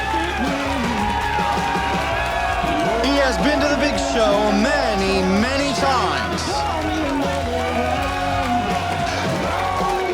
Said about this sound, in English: And the crowd goes absolutely wild for him.